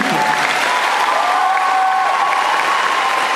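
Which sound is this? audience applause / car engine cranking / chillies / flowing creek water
audience applause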